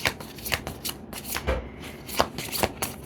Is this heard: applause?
no